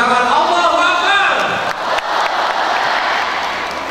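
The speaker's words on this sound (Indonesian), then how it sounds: "Iya, sekarang kita beri tepuk tangan." A crowd at an MTQ Quran recitation event at Universitas Indonesia applauds loudly. A voice is heard at the start, and then the clapping continues as a broad, fairly close wash that gradually fades.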